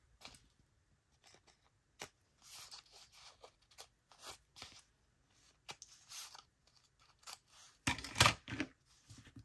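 Paper edges being trimmed with scissors for a craft pocket project, heard as soft irregular snips and rustles close by, with a louder burst of cutting near the end and no talk.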